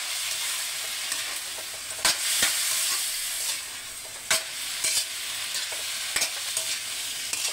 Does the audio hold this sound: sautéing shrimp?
yes